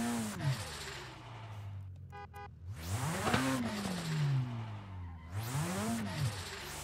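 Drifting car in a racing game, engine revs rising and falling in three swooping sweeps with tire squeal and skidding between, close and loud, including a short pause with a brief mechanical ratchet as the handbrake is pulled.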